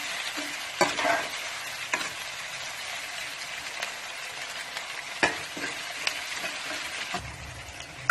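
Chopped onions frying in a pan for a Punjabi-style chicken curry, with a steady sizzle and repeated scraping strokes of stirring, close and alone without speech.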